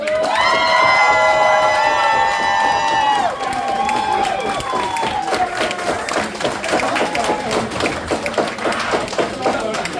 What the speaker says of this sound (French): Mesdames et messieurs, s'il vous plaît, donnons-leur une bonne main d'applaudissements!